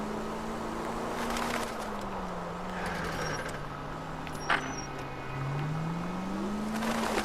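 Car driven in the video game L.A. Noire, a steady engine drone whose pitch slowly sags and rises with speed, continuous and fairly close, with a couple of faint clicks over it and no talk.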